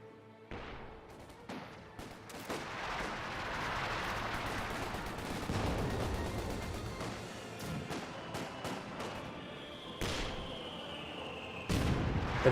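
MG34 machine gun fire in the strategy video game Company of Heroes 2, sustained rattling bursts mixed with distant artillery booms and battle noise, with sharp louder shots near the end.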